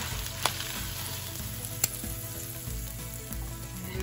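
A beef roast sears in a pan with bacon for Czech svíčková, producing a continuous close sizzle with two sharp clicks of utensils, under steady background music.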